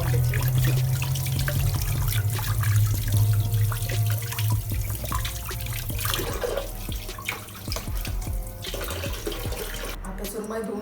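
Tap water runs steadily into a kitchen sink while seer fish is washed, a continuous close splashing stream with faint voices underneath near the end.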